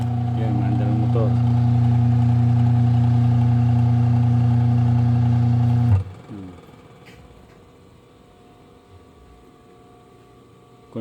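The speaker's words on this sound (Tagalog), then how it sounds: "Yun, mandar ang motor." A washing machine motor, its timer switch faulty and bypassed with a jumper, runs with a loud steady hum and whine for about six seconds, then cuts off abruptly, leaving quiet room noise with a few faint clicks.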